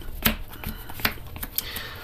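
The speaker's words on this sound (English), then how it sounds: "let me do another power shuffle." A deck of trading cards is power shuffled, giving sharp riffling bursts and snaps in quick irregular succession, close and fairly loud with no talk.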